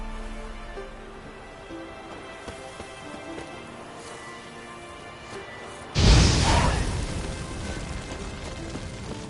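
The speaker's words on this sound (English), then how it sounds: "Now for a shot of Igni." A burst of Igni, the fire sign spell in The Witcher 3, erupts suddenly as a loud roaring whoosh that lingers and slowly fades, following a quiet stretch of ambient game sound.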